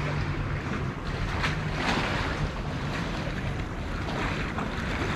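Ocean waves and surf at a Maldives resort with clear water wash steadily in a dense, continuous roar, mixed with wind buffeting the microphone.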